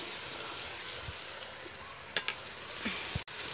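Whole spices (garam masala, bay leaves, dried red chillies and cumin) crackle and sizzle in hot oil for tempering, a steady close frying hiss broken by a few light stirring clicks.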